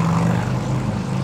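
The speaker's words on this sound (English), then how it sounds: "Cool motorcycle, bruh." A motorcycle engine drones steadily and loudly on a New York street in Midtown East, a continuous low rumble close by without any voices.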